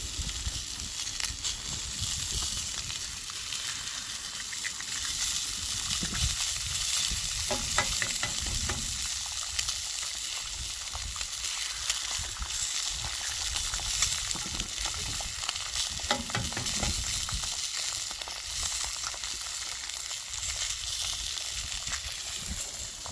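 Eggs frying on a fuel-efficient cooker, a steady close sizzle and crackle running throughout with occasional stirring scrapes, no talk over it.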